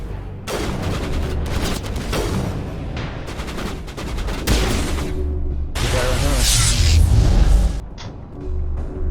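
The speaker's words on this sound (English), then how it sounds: "Nice point blank sniper shot." Loud, dense game combat in Mass Effect Legendary Edition on Noveria, with a point-blank sniper rifle shot amid rapid bursts of gunfire and booming impacts that swell toward the end of the passage.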